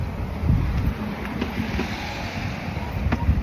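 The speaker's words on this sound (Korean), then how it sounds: "시원한 바람이 부네요" Wind blowing past a moving rider outdoors, a continuous rushing, buffeting roar over the microphone with low gusty rumbles, steady for a few seconds.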